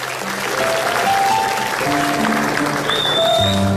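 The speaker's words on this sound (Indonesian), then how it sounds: "tepuk tangan dulu dong, semangat ya." A studio audience at an Indonesian comedy talk show applauds steadily, a dense wash of clapping with some tonal background hum and faint music-like tones throughout.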